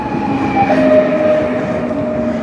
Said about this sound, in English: But here comes the train.